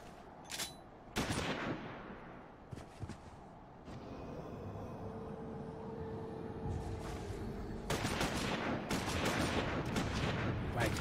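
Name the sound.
gunfire in video game Final Fantasy XIV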